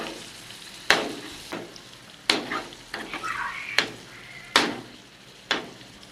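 Marinated kaleji (liver) frying with masala on a hot tawa over high heat, a continuous close sizzle punctuated by about six loud, regular spatula strikes against the iron griddle, no voices.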